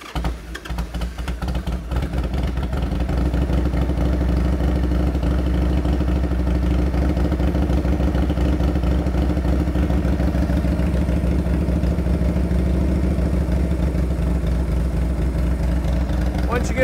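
A Harley-Davidson Sportster motorcycle engine fires up and settles into a steady, loud idle, a continuous low thumping rumble close by that holds for most of the time.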